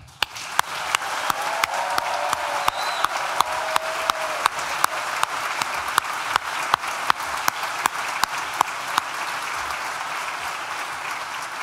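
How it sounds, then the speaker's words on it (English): Graduates at a Nottingham Law School graduation ceremony give a round of applause, dense steady clapping punctuated by regular sharp louder claps from one nearby pair of hands. "So could you please give yourselves a round of applause again?"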